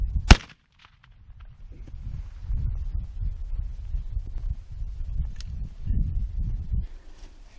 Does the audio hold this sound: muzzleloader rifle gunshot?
yes